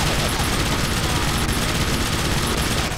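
Mounted turret machine gun in the video game Infernal: Hell's Vengeance, a loud, dense, unbroken stream of rapid gunfire lasting several seconds with no pause.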